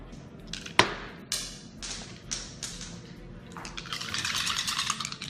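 Five dice tumble for an attack in a tabletop board game, a run of sharp clicks and clatters on a hard surface that settles into a faint rattle, heard up close.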